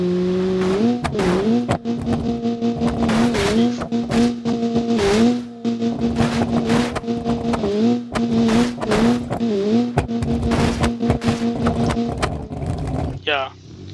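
A restomod car driving in the BeamNG video game, its engine loud and close, revving up and down in repeated surges with brief drops between, then cutting off and ending in a short high chirp.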